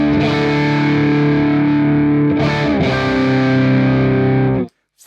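Distorted electric guitar through a Neural DSP Nano Cortex, captured with a C414 microphone, plays a thick sustained chord that is briefly restruck, then cuts off abruptly, loud and close with no talking.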